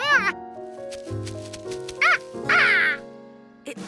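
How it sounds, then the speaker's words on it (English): Cartoon ducks quack in a short burst of bright, nasal calls as eggs hatch in a nest, with voices and a musical backing around them. "Your ducks are hatching."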